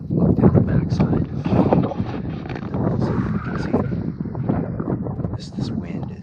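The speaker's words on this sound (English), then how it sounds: "This wind is not fun" Strong wind roars across an open hillside during a late-autumn rifle mule deer hunt, a steady, loud gusting that buffets the microphone without a break.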